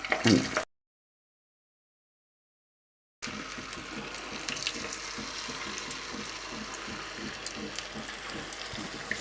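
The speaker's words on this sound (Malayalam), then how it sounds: "ഇനി ഇതൊന്ന് നമുക്ക് പൊരിച്ചെടുക്കാം" Balls of wheat-flour bonda batter fry in a pan of hot oil, giving a steady close bubbling sizzle that stops briefly into silence and then resumes continuously.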